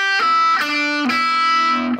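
An electric guitar plays a few pull-off notes on an E blues rock scale, three plucked notes ringing in sequence with a slightly distorted tone, clear and alone.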